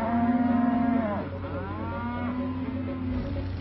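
Prime beef steers at a huge feedlot, with long, drawn-out moos from several animals overlapping against a constant herd din, loud and close.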